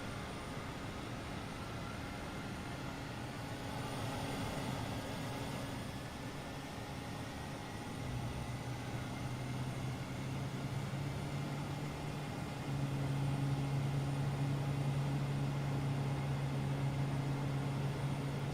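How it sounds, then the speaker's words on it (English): Airbus A320 jet engines spooling up at startup in Microsoft Flight Simulator, a steady low whine and hum at the gate with faint tones stepping up in pitch as the engines come to life. "so we can hear the engines starting"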